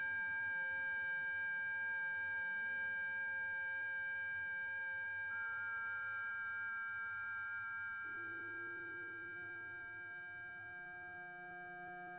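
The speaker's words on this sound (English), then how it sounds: "Was this a kind of siren?" A sustained electronic siren-like tone with layered steady pitches drones on, shifting in pitch partway through and slowly fading toward the end.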